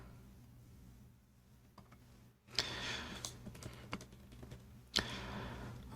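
Computer keyboard typed on by someone coding, quiet at first, then a burst of rapid close-up clicking keystrokes, a pause, and another short flurry of taps.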